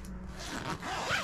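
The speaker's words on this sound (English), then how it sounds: "Zip it all up." A zipper drawn closed along a packed hand-luggage bag, one continuous close rasping pull lasting about a second.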